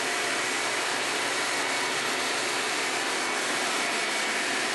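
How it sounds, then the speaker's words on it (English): A vacuum cleaner fitted with a debris separator runs steadily, a constant loud whooshing roar of airflow holding at an even level from start to finish, with no talk. "We're done, so let's turn off the vacuum."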